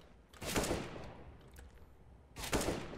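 Two short bursts of rapid gunfire in a shooter video game, rounds striking a wall, each burst sharp and dense, separated by a quieter pause of about two seconds.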